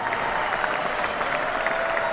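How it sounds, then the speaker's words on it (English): A studio audience at a sports talk show applauds with steady, continuous clapping from start to finish. "nice round of applause for AMP TV."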